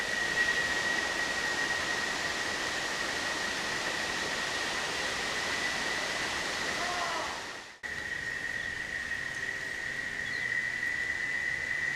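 Water from a small waterfall rushes in a steady, close hiss, continuous throughout with a brief break near the end.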